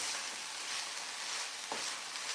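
Coconut frying in a pan over medium-low heat while being mixed, giving a steady, fine crackling sizzle throughout with a brief scrape or stir near the end, no voices.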